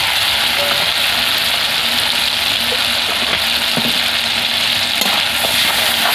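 A paste of ground cashew, puffed rice and mustard sautés in a hot pan for fish kaliya, giving a loud, continuous frying hiss with faint scrapes and taps of stirring.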